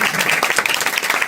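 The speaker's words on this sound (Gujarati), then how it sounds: "એક બાર જોરદાર તાળી" A live crowd at a religious satsang gathering in Michigan, USA claps for a speaker. The applause is dense and steady throughout the short clip.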